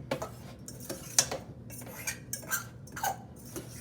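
Potatoes tossed with oil, spices and grated Parmesan cheese in a dish, giving soft scraping and clinking of a utensil against the bowl in an irregular stirring rhythm, close and fairly quiet with no talk.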